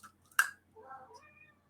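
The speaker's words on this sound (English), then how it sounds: "Yes, hi Kitty" A pet cat gives a soft, short meow after a faint click, quiet and close in an otherwise hushed room.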